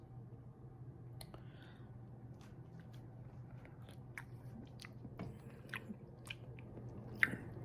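Close, quiet chewing of a bite of homemade sloppy joes made with ground beef and onions, with soft wet crunches and clicks of teeth repeating irregularly, no talking.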